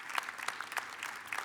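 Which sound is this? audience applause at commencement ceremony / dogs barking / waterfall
audience applause at commencement ceremony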